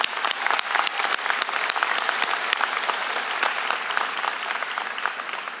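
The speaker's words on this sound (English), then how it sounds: "So let's give them a round of applause." A convocation ceremony audience gives sustained applause for graduates' families, friends and teachers, a dense, loud clapping that stays steady for several seconds with no voices above it.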